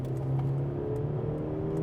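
A Mercedes-Benz CLE car engine hums and revs steadily from inside the vehicle during a kickdown overtake, a low droning tone with a faint whir.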